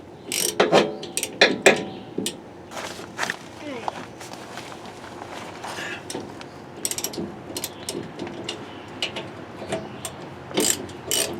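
Hand ratchet tightening a fitting on a replacement hydraulic pump for an RV slide-out system, giving bursts of sharp close clicking between shuffling and movement noises, with a voice speaking now and then.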